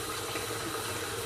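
Tap water runs steadily into a bucket for an aquarium water change, a continuous broadband gushing and splashing with no pauses or voices.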